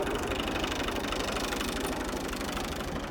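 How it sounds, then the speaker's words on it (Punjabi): Tractor engine idling on a Punjabi farm, a steady low rhythmic diesel chug with even knocking pulses, continuous and close, no voices. "ਆਪਾਂ ਟਰੈਕਟਰ ਆ ਗਿਆ ਜੀ"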